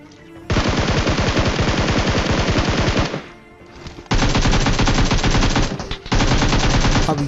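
Rapid automatic gunfire from PUBG Mobile, loud and close, in long sustained bursts: a roughly two-and-a-half-second stream, a short pause, then two more bursts separated by a brief gap.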